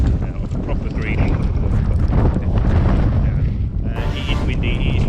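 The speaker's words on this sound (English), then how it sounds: "It is windy, it is rainy" Strong wind on a rainy golf course buffets the microphone with a constant low rumble and roar, loud and close throughout, with a brief higher hiss near the end.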